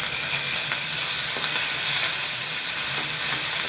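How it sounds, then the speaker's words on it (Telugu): Mustard seeds, cumin and curry leaves spluttering in hot oil for a chutney tempering, a steady loud sizzle with scattered sharp pops throughout and no talking. "చిటపటలాడుతుంది."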